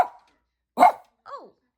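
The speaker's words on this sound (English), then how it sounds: "What are you barking at, you 8-year-old?" A dog, eight years old, barks indoors at night: a few sharp, separate barks spaced out over a couple of seconds, close and fairly loud, with a softer whine-like yelp at the end.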